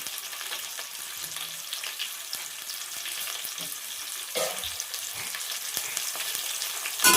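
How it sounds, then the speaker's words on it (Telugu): Leafy greens curry being stirred in a pan, with a steady hiss of frying and sizzling under scattered scraping and clinking of the spoon, close and fairly loud throughout, no voices. "చూడండి ఇట్లా మంచిగా కలుపుతున్నా"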